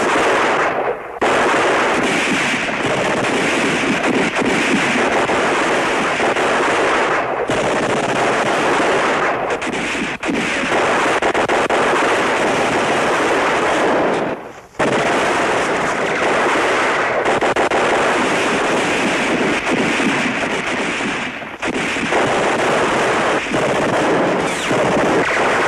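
Sustained, dense gunfire from rifles and machine guns roars loud and near throughout a WWII television drama battle, broken only by a few brief gaps.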